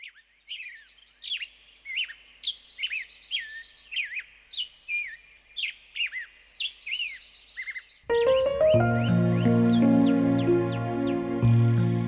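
Several birds chirp and tweet in quick repeated bursts, fairly close and clear, for about eight seconds; a sustained broadband tonal sound then abruptly takes over.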